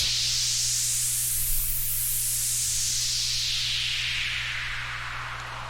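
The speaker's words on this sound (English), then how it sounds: "It's literally just white noise rising for like 4 bars, and then falling for 4 bars." A white-noise sweep climbs steadily to a bright peak, then slowly descends again, a smooth synthetic hiss over a faint low hum, no voices.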